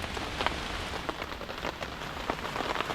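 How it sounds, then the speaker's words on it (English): Steady rain pattering on surfaces during a storm, a dense continuous hiss with scattered sharper drops and no clear thunder peal, heard from a sheltered spot indoors. "It's raining and thundering."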